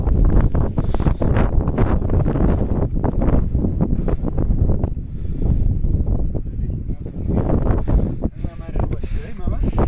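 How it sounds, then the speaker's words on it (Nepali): Strong gusting mountain wind buffets the microphone throughout, a loud continuous roar at high altitude above the clouds, with a voice speaking over it. "हावा चाहिँ तर मान्छे उडाउने खाली आउँदो रहेछ यहाँ चाहिँ।"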